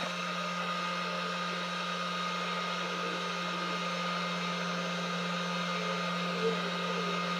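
A heat gun blows steadily while warming a PVC bow for bending, a constant airy hum with a low electrical drone underneath, moderately faint and unbroken, with no talking.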